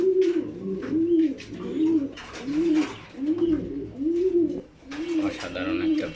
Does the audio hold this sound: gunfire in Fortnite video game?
no